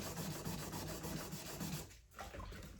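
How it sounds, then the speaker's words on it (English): Wet sandpaper rubs steadily across a goalie mask in a quick rasping back-and-forth, close and fairly quiet, with a short pause near the end before the scrubbing resumes. "I sand it off"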